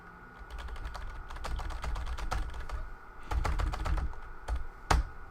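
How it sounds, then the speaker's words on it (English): Fingers rapidly hammer a computer keyboard in quick clattering bursts. The keystrokes come close and fairly loud, with short pauses and a final hard tap. "I could hear you spamming that keyboard"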